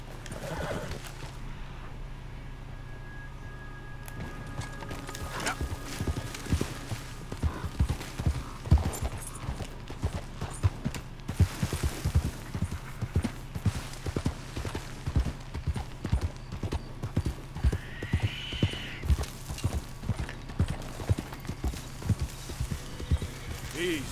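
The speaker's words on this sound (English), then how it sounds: "Just the horse." Horse hooves clip-clopping steadily with occasional neighs in the video game Red Dead Redemption 2, a rhythmic trot that grows more pronounced over time, with game speech heard faintly in places.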